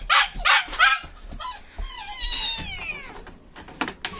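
A small rescued kitten meows repeatedly and loudly up close, a series of high, drawn-out cries with short pauses between them.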